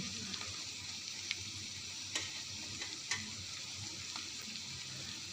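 Dried fish and ivy gourd curry frying in plenty of oil, a steady soft sizzle with occasional faint clicks of a spoon as it is stirred gently in the pan.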